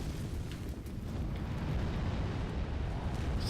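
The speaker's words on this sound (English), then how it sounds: "he just set everything on fire." Fire spread by an enemy in the Dark Souls 3 video game, in the City of Irithyll, roars as a steady, dense rushing crackle that holds without a break, with no talking.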